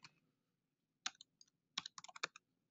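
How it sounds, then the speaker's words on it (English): Typing on a computer keyboard during mobile app design work: a short pause, then scattered clicks followed by a quick cluster of close, crisp keystrokes, with no voices. "all I'm doing is I'm selecting the header and just typing directly in here"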